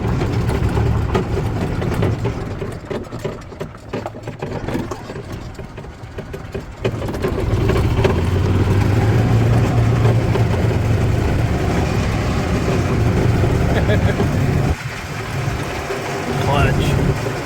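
A 2008 Yamaha Drive G29 golf cart engine, worn and with a blown head gasket, runs steadily and loud up close, rising in level partway through, with a rattly roof and speech over the engine.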